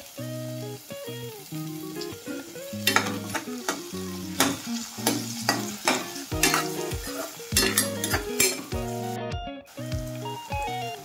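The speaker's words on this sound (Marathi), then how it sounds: "थोडा कांदा परतून घेऊ आपण" Chopped onion frying in a pan for a Kolhapuri-style bhakri meal, a steady sizzle with frequent spatula scrapes and stirs, under continuous background music.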